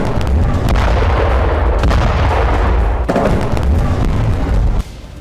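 Heavy artillery and tank fire during a ground operation in Gaza, a loud, dense rumble of repeated booming blasts layered over one another, ending abruptly in a quieter tail.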